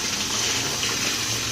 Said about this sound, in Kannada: ಇಲ್ಲೇ ನಮ್ಮ ಸಿಂಕ್ ಟ್ಯಾಪ್ ವಾಟ್ರ್, ಈ ಕಡೆ ಟ್ಯಾಪ್ ವಾಟ್ರ್ ಮೇಲಿಂದ